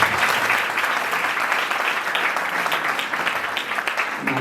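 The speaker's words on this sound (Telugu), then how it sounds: "అందరూ గట్టిగా హల్లెలూయా చెప్తాం. గట్టిగా క్లాప్స్ కొట్టాలి." Loud, dense applause from an audience at a Christmas gathering, steady and sustained throughout with a faint voice underneath.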